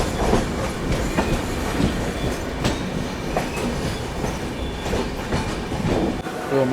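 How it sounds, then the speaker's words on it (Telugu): A train on the adjacent line rolls past at Kalyan Junction, loud and close, with rhythmic wheel clatter over rail joints and faint squeal, running steadily throughout. "సో పక్కన ట్రైన్ వస్తుంది కదా"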